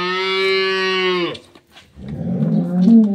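A dairy cow on a farm gives a long, loud, drawn-out moo up close, followed by a shorter, rougher lowing call after a brief pause, with no talk.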